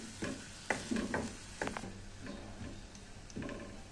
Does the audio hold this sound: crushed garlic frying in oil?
yes